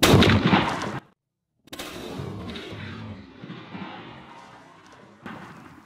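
A CZ 712 shotgun fires a Hevi-X Strut load through a Patternmaster Code Black turkey choke during pattern testing: one loud, close blast, then a brief silence before quieter voices and movement follow.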